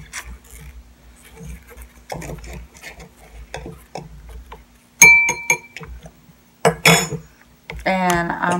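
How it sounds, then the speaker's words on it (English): Slime mixture being stirred in a container, soft scraping and scattered clinks at first, then louder knocking strokes, with a voice breaking in near the end. "Just keep stirring it and stirring it and stirring it until it gets the way the slime's supposed to be."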